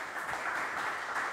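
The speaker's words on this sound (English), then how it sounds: "Give them a small applause." Brief, moderate applause from a conference audience as two speakers come on stage, a short wash of clapping at an even level.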